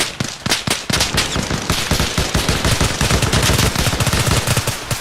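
Sustained gunfire from a building rattles continuously, loud and close, as dense overlapping shots with a few sharper cracks early on and no voices.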